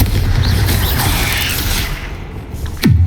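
A Bombarda spell explosion in Hogwarts Legacy, a loud rumbling blast that fades through noisy combat, with a sharp low thud hitting right at the end.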